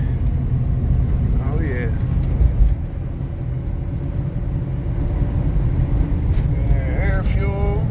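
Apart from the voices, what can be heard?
truck driving on rural road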